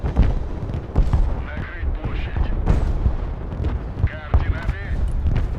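Booming 152mm artillery and mortar fire in the video game Broken Arrow, repeated heavy thuds and blasts rolling in irregular bursts, loud and dense, with a voice talking over parts of it.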